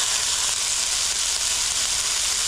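Food frying in a pan at home, cooking from a subscription recipe kit: a steady, even sizzle and hiss fills the whole stretch without pause, close and moderately loud, with no talking over it.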